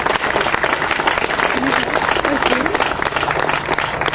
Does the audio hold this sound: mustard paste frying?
no